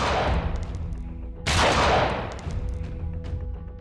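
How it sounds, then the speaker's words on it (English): Rifle shots fired from a sniper's nest high in the Texas School Book Depository during a dramatized 1963 Dallas motorcade assassination, heard as two loud cracks with long reverberant tails rolling away across the plaza. "Deep in the sniper's nest, Oswald fires 3 bullets."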